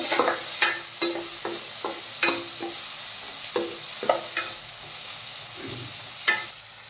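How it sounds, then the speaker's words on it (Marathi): Finely chopped tomato stirred in a hot pan for chole, a light sizzle with a series of sharp spoon scrapes and knocks recurring every half second or so, close and fairly quiet. "आता आपण यामध्ये घालूयात बारीक चिरलेला टोमॅटो। टोमॅटो छान परतून घ्यायचा आहे।"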